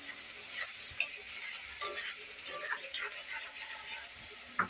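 Noodles and tomatoes frying and stirred in a pan, a steady close sizzle with scattered scraping clicks of the spoon against the pan throughout, no talk.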